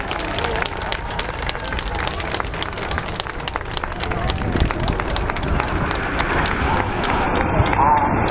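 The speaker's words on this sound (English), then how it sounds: "can we have a big patriotic round of applause as they come in Phoenix!" An outdoor airshow crowd applauds continuously while the Red Arrows come in over Blackpool in Phoenix formation. The clapping is spread out and busy under rushing ambient noise and some voices, with no single clap standing out.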